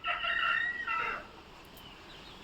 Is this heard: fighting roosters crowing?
yes